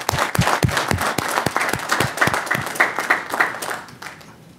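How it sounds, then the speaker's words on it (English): Loud, close applause at a city council meeting in Portsmouth, Virginia, honoring students, with sharp individual claps ringing out over the crowd before tapering off near the end. "We want to applaud all of our students"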